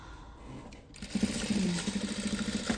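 A sewing machine stitches the corners of a Kazakh patchwork quilt, a steady rapid mechanical chatter starting after a quieter lead-in and running close and continuous to the end.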